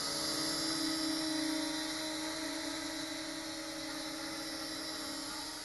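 A Cellstar Wave Razor drone holds a steady hover, its rotors giving a continuous high-pitched whine with layered tonal hum that stays constant and fairly close throughout.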